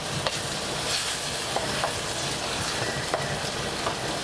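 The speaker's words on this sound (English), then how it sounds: "Keep it at that high heat so we can get that wine all cooked down." White wine cooking down over high heat in a hot pan for tuna pasta gives a steady, even broadband sizzle with a few faint clicks and taps, no talking.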